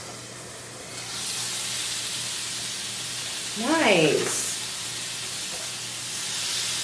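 Food sizzles on a grill, a steady soft hiss running throughout, with a brief spoken exclamation in the middle.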